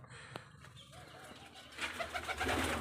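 Faint cooing of a female pigeon brooding her chick hums beneath steady background noise that grows louder and hissier toward the end.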